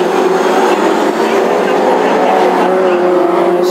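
Classic hot rod race cars circling the Birmingham track in the season's final night race, engines droning loud and continuous with a broad roar, while an announcer talks over the din.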